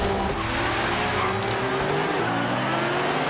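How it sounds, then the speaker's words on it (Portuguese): Nissan race cars in a racing video game rev hard and continuously, with loud engine roar and tire squeal filling the whole stretch and no talking over it. "Olha o carro dos caras na reta."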